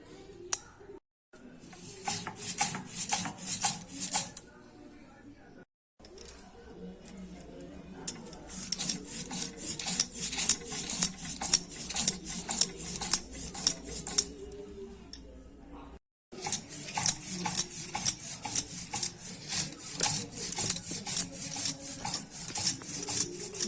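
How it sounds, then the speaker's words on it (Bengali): Mustard seeds are ground into a paste with salt and green chilli for bhetki fish paturi, producing rapid, rhythmic scraping and grinding strokes in bursts with a few brief pauses, close and fairly crisp. "একটু নুন আর এই যে কাঁচা লঙ্কাটা দিয়ে বাটবো"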